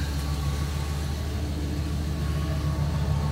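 A 2012 GMC 2500 SLE pickup with a gas engine idles steadily, a low, even rumble with a constant hum, close and alone with no talking.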